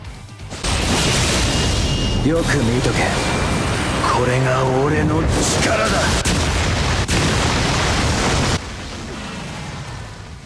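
Soul bomb attack in the Bleach Brave Souls game setting off a dense, loud burst of explosive blasts and booms with layered effects, while a voice talks over it.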